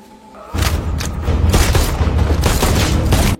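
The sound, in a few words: RPG fire explosion in a film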